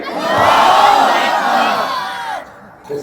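A large crowd at a religious gathering roaring back in unison to a takbir call, a loud, swelling chant of massed voices that peaks and then fades away near the end.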